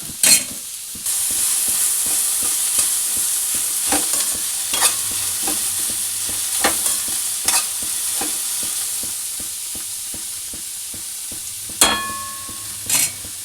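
Vegetable fried rice made from leftover rice is stir-fried in a pan over high flame, with a steady bright sizzle and repeated scraping clicks of the spatula. No one talks.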